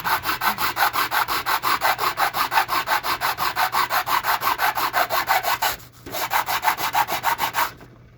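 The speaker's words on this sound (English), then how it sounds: "you can use the grinder, see how fast that's coming down" A grinder working down a sunken Nelson pop-up sprinkler, a loud close rhythmic rasping and scraping that pulses steadily, pausing briefly before resuming.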